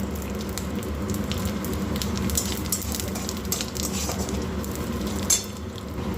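Whole cumin seeds crackling in a little hot oil in a pan while cooking a Bengali jackfruit and prawn dish, a continuous close sizzle with faint pops and light clinks, no talking.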